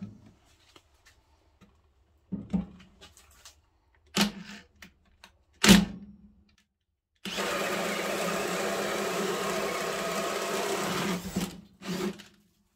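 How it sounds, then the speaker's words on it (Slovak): A Hilti cordless drill on second speed with a 5 Ah battery boring a 65 mm hole: a few short bursts, then a loud, steady whirring run of about four seconds, with no talking. "A teraz vyskúšame ten istý otvor dovrtať s vrtačkou Hilti."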